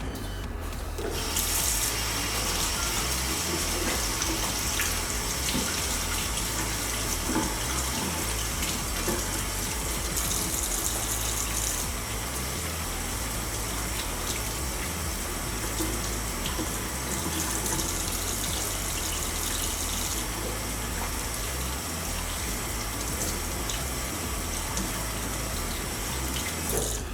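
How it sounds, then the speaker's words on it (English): A kitchen tap runs continuously at full flow while hands are washed under it, a loud, close, unbroken rush of water splashing into the sink with faint shifts as the hands move through the stream. "Let me just wash my hands."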